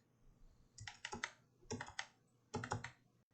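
Computer keyboard typing in three quick bursts of several clicks each, heard alone in a quiet room during 3D modeling work.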